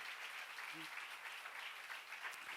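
A church lecture audience claps steadily and continuously at moderate volume, a dense wash of applause with a brief murmur partway through.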